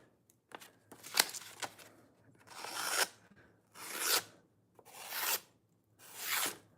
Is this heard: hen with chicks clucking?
no